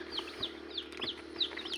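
Tiger breed chicken chicks, about ten days old and raised for meat, make repeated high-pitched peeping chirps over a steady low farm hum, fairly close and moderately loud.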